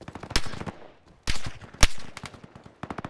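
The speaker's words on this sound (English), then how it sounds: "I'm gonna continue firing from sandbags." Gunshots fired from behind sandbags in the Roblox Fireteam shooter, sharp separate cracks with a few heavier blasts and a quick run of shots at the end, close and fairly loud with quiet gaps between.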